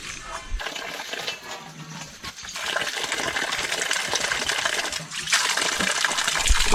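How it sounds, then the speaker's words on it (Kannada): Water runs and gushes steadily at a trekking camp on Kumara Parvata, a continuous splashing flow that grows louder toward the end, with no voices. "24x7 ನೀರು."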